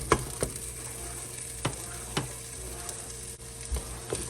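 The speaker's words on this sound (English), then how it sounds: "And I'm gonna scramble those separately." Eggs sizzle softly in a pan, a steady quiet frying hiss broken by several sharp scraping stirs of a utensil as they are scrambled, with no talking.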